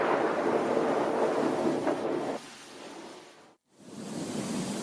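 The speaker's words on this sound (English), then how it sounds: "The most dangerous moment is when thunder immediately follows lightning, like in this case." Thunder following a close lightning strike rolls as a loud, broad rumble that fades partway through, drops briefly to near silence, then swells again into a second deep roll.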